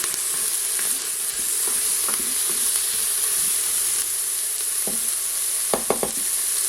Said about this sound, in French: Donc je vais quand même laisser dorer bien les oignons